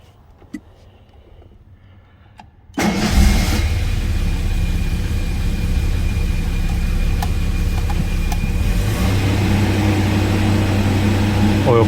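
A 1974 Jaguar XJ6 Series 2 engine catches after near silence and settles into a loud, steady idle with a constant low drone, heard close up with no talk.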